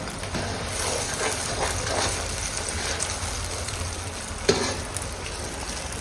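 Flour roasting in ghee in a pan in a village kitchen, a steady close sizzle with soft stirring scrapes throughout and one sharper clack near the end.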